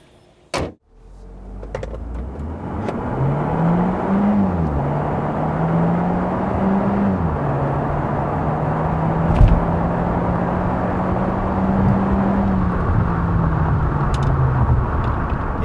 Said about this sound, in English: Now let me show you how fast Seltos can be.